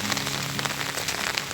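Heavy rain pours down steadily onto the surfaces near a house. The hiss is dense and constant, with drops pattering close to the microphone, and no one speaks.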